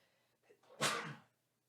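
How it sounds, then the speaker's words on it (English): A single sharp sneeze, close and sudden, preceded by a faint intake of breath, then quiet. "And I did sneeze."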